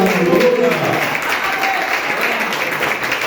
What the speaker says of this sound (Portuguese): Vamos aplaudir o nosso Deus por esse milagre.